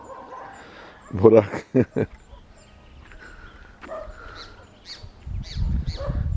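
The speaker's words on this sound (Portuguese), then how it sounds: "e o cachorro caçando tatu" A dog on a rural smallholding barks in a short burst of three or four sharp, close yelps while hunting an armadillo at its burrow, followed by people talking and quieter outdoor background sounds.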